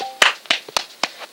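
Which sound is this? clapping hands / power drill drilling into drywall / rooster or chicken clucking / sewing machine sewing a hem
clapping hands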